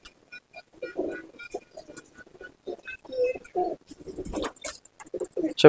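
Punjabi Malwai pigeons in a loft give short, scattered bursts of soft cooing, close and fairly quiet, with small rustles and pauses between the calls.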